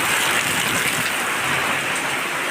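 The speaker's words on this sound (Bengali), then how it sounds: "প্রচন্ড ঝড়, প্রচন্ড বৃষ্টি, বিদ্যুৎ চমকাচ্ছে।" Heavy thunderstorm rain pours steadily and loudly, a dense, unbroken hiss with no voices over it.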